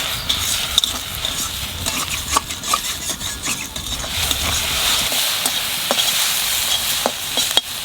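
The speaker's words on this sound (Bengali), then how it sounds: "ডিমটা আগে ভেজে নিলাম" Egg frying in a pan for a home-cooked taro and greens curry, sizzling steadily while a utensil scrapes and clicks against the pan in irregular stirring strokes, close and alone.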